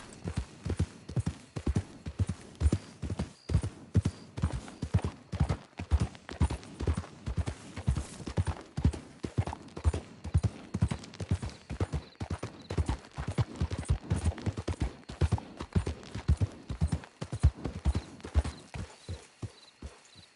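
Horse hooves in Red Dead Redemption clip-clop in a steady, fast rhythm throughout while riding, close and clear, with no voices over them.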